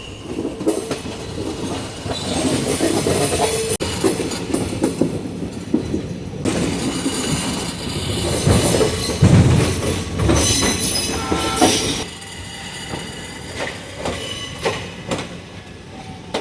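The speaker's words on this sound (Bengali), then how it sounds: "ট্রেন কিন্তু একদম ডট টাইমেই ঢুকছে।" The Ranikhet Express pulls into Delhi Junction, a loud, continuous rumble of railcars with clickety-clack over the rail joints and bursts of squealing wheels, heard close up with no talking.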